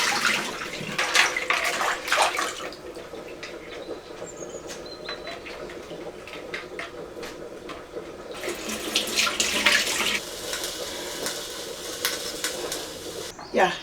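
A tap runs steadily while anchovies are washed under it, with water splashing and rising into louder gushes partway through, close by, and a voice speaking at times.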